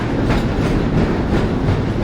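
Train rolling along in the Half-Life video game, a steady loud rumble of wheels and rail noise with faint rhythmic clatter, continuous throughout with no talking.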